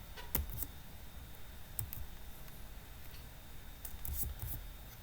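Computer keyboard keys are tapped while entering an Excel function, heard as a few quiet, sparse clusters of crisp clicks in an otherwise hushed room.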